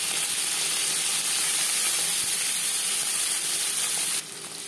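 Small mourola fish fry in hot oil in a kadai, giving a continuous dense sizzling hiss that holds steady, then drops slightly softer near the end.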